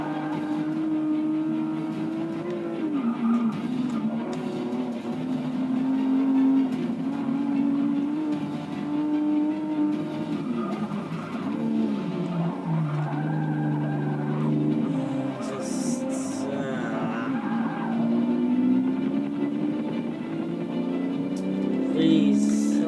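A Porsche race car in the racing game Forza 6 drives steadily throughout, its engine tone rising and falling with gear changes and a brief tire skid, loud and continuous with no voices.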